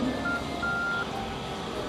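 A telephone number is dialed, a few short electronic tones sounding in quick succession over a steady hum of background noise.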